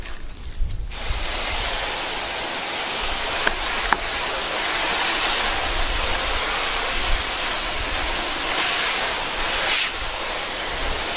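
Water rinses a hazy Renault car headlight lens, a steady, loud rushing spray that barely varies, with a few brief splashy bursts along the way.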